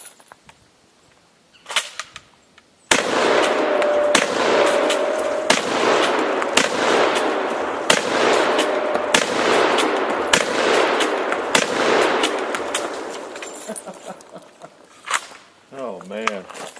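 Sharp gunshots crack against a propane tank outdoors, a few isolated shots, then a long run of rapid, loud reports in an uneven rhythm, with someone talking in places.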